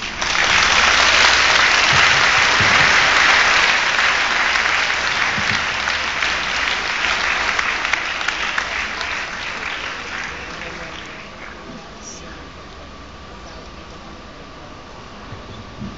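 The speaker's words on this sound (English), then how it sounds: "our salutatorian deserves another round of applause" A graduation audience applauds a salutatorian: loud, sustained clapping from a large crowd that gradually thins and fades over about sixteen seconds.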